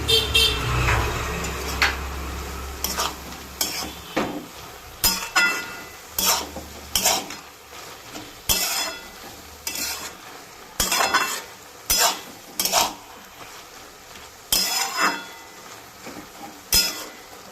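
A spatula stirs fried prawns into a bottle gourd curry in a pan, making repeated rhythmic scraping strokes, close and fairly loud, over a low sizzle.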